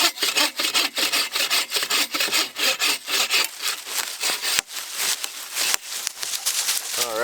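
A hand saw cuts through maple hardwood at a late-fall campsite, steady rhythmic back-and-forth strokes, loud and close, running continuously with a brief pause near the end.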